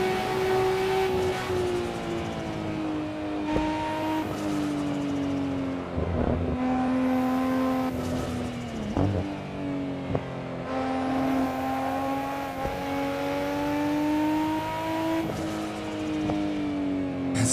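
A Nissan Skyline GT-R R34 engine in the Assetto Corsa racing game, driven hard at the Nurburgring. The engine drones loud and close, climbing in pitch through the gears, with sharp drops at each shift and a brief dip around the middle.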